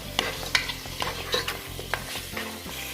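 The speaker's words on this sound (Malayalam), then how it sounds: "നല്ലപോലെ മിക്സ് ചെയ്യാം" Ketchup sauce with capsicum being mixed in a pan for chicken-vegetable macaroni; rhythmic spoon scrapes and taps over a low sizzle, close and moderately quiet, no talk.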